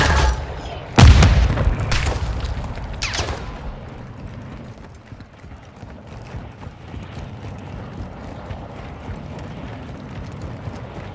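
A frag grenade detonates in a shooter video game, one sudden loud close boom followed by a couple of smaller blasts and a long fading rumble of debris and ambience.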